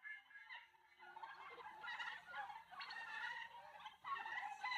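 Aggressive young turkeys on a farm keep up a dense, overlapping gobbling chatter, continuous and moderately close, with no voices over it.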